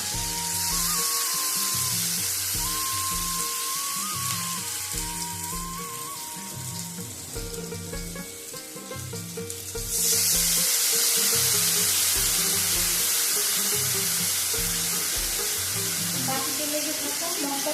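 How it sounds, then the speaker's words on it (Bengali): Spice paste with a little chilli powder stirred into a pan of thin fish curry, giving a loud, steady sizzle and bubbling that swells sharply about halfway through. A faint tonal hum sits underneath. "এবার আমি ওই গুলে রাখা মশলাটা দিয়ে দেবো এখানে আর সামান্য লঙ্কা গুঁড়ো আছে"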